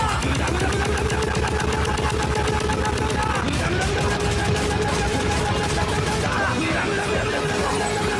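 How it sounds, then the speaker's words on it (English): Rapid turret gunfire from a weapon in Doom 2016, a dense continuous stream of fast shots that stays loud and unbroken throughout, with a steady mechanical whine running beneath it. "the weapon turns into a turret which shoots bullets so fast that it leaves nothing but a blood trail on the ground"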